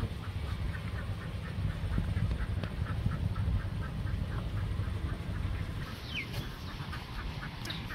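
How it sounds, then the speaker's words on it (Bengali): White domestic ducks quack in a village setting, with repeated short calls at a moderate distance over a low outdoor background. "দুইটা সাদা খরগোশ দিয়ে গেছি আর দুইটা সাদা হাঁস নিয়ে গেলাম"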